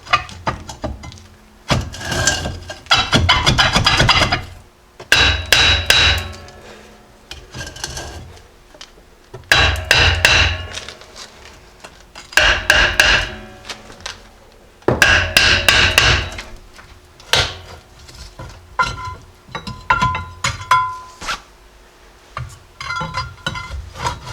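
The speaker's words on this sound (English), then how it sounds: "it took a lot of hammering and prying just to be able to get this drum off" Repeated heavy metallic hammer blows in clustered bursts, ringing clanks on a stuck brake drum of a Jeep Cherokee XJ with pauses between rounds, close and loud.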